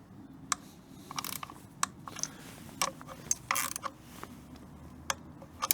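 A torque wrench tightens the bolts of a motorcycle front sprocket cover, making close, crisp ratcheting clicks in short bursts separated by pauses.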